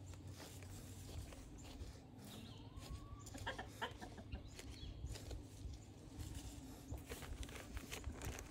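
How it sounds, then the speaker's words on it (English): Chickens cluck and murmur close by in short, repeated bursts around a garden, with scattered rustling and scratching around them. "Avoiding the chickens."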